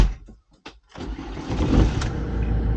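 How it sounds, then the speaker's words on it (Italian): A camper van engine cranks with a few short bursts, then catches and settles into a steady, fairly loud idle close by. "ci mettiamo in moto e andiamo. Mettiamo in moto."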